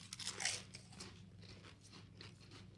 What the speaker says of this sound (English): I'm chewing.